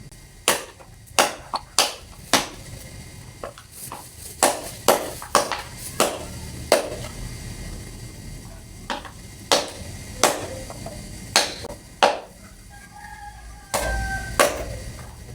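A golok kuduk machete chopping coffee wood outdoors, a steady series of sharp wooden thwacks about one or two per second, close and crisp over low background ambience.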